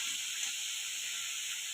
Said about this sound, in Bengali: এর মধ্যে আমি একটু হলুদ গুঁড়ো আর একটু নুন দিয়ে এটাকে নাড়াচাড়া করে ভালো করে ভেজে নেব